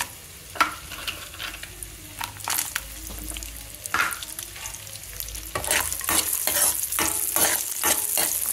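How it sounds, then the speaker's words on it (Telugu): Cashews and raisins frying in a pan, with a steady crackling sizzle broken by scraping stirs, growing louder and busier in the second half, no voices. "ఇందులో కిస్మిస్ కూడా వేయించేసుకుందామండి."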